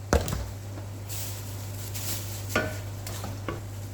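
A filling of onion, mushroom, chicken, pepper and salt is stirred in a pan, with a few distinct spoon knocks and scrapes over a soft sizzle and a constant low hum.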